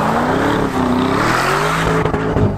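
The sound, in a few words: Lamborghini Urus SUV engine drifting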